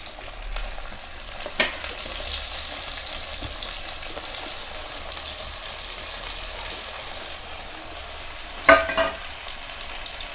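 Ginger, garlic, chilli and tomato fry in a pan with a steady sizzle while a spoon stirs them, with a couple of sharper scrapes of the spoon against the pan.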